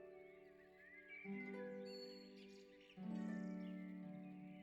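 Birds sing by a beaver pond, producing faint, soft calls with a few tonal, sliding phrases in quiet surroundings.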